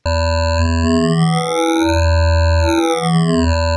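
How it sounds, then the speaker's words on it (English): A loud, sustained wavetable synthesizer tone using the Prism 3 table, with rich buzzy harmonics, its timbre sweeping and wavering in a detuned, shifting way. "like when you turn the wavetable, it feels like the wavetable is detuning"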